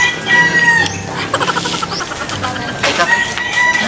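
Chickens cluck and crow at close range in a Filipino yard, a busy run of loud calls and clucks with a rooster-like crow.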